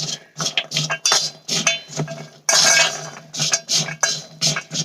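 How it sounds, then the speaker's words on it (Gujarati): Peanuts being mixed with salt in a metal vessel, loud rattling bursts and clinks of nuts and spoon against the pot in repeated stirring strokes, up close with no talking. "આ મીઠાને આપણે સિંગમાં સરસ રીતે મિક્સ કરી લઈશું"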